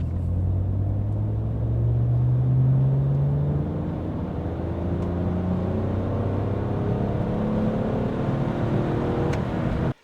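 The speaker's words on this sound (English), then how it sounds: "I made a 50 to 110 kilometer per hour sprint where I stay in the same gear, third gear." BMW E46 accelerating hard in third gear from 50 to 110 km/h, a loud steady engine drone that climbs in pitch over about ten seconds and cuts off abruptly at the end, with no talk.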